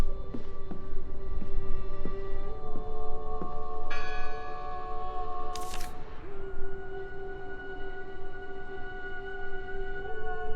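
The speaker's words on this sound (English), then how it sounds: "Listen! The bell!" A church bell tolls in the video game Draugen, its clanging strikes ringing out with long, humming overtones over a steady ambient background.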